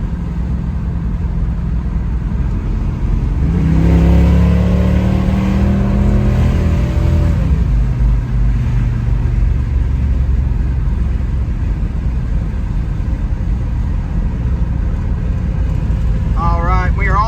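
A 1970 Chevrolet Nova SS engine revs loudly up close, a rising and falling roar around the four-to-eight-second mark, then settles into a steady rumbling idle.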